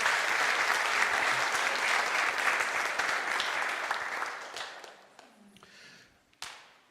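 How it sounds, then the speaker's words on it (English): An audience applauding Jocelyn at a church service, a sustained wash of many hands clapping that fades out gradually, followed by a single sharp knock near the end. "Let's give her a round of applause"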